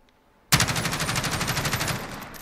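An MG433 machine gun in Call of Duty Modern Warfare fires a sustained burst from a crouched position, a loud, sudden onset followed by rapid evenly spaced shots for about two seconds, close and alone.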